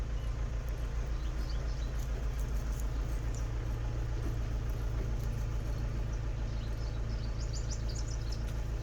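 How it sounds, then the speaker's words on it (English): Steady low engine rumble of cars in the background, a constant mid-level drone with faint occasional higher tones, no speech over it. "Do excuse the car sounds."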